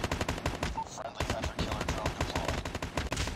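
Rapid automatic AK47 fire in COD Mobile, dense bursts of close, loud gunshots almost continuous with a brief pause, a voice talking underneath.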